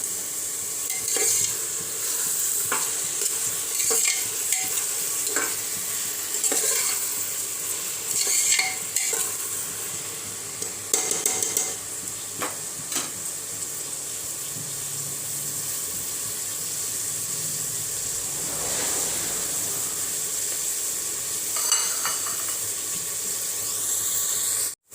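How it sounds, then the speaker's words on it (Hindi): Onions frying in a pan toward a light golden brown, sizzling and hissing steadily while a utensil scrapes and stirs them in repeated strokes throughout. "गोल्डन फ्राई हल्के से करनी है हमें प्याज को।"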